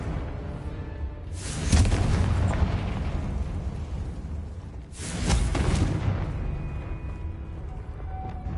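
Two loud, rumbling magical blasts from the Confringo fire-explosion spell in a Harry Potter video game, each a sudden burst that swells and lingers over a low ambient game background, spaced about three seconds apart.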